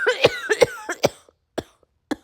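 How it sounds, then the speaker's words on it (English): A string of harsh, raspy coughs from a sick person comes close and loud, in quick bursts at first, then trails off into a few isolated single coughs separated by quiet gaps. "this cough is killing me"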